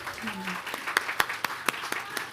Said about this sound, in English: give a round of applause for Johnson